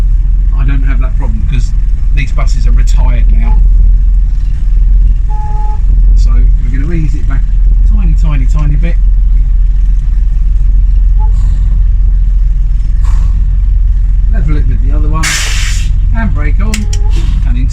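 A Bristol VR double-decker bus, registration PKE809M, drives slowly around a yard, its engine a steady low rumble throughout, with people talking over it.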